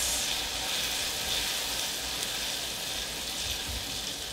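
Butter melting into hot caramel in a pan off the stove gives a steady, close, bright sizzle and hiss that runs evenly throughout with no talk over it.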